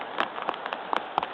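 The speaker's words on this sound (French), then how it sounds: "Il pleut, les conditions de pêche sont vraiment pas terribles." Rain falling during fly fishing for perch, heard as scattered close taps and patters of drops on a surface, several sharp hits over a soft steady background.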